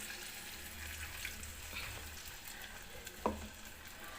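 Egg curry cooking in a pan, a soft continuous sizzle with scraping stirs and a sharp clink of the spoon near the end, heard alone at low level.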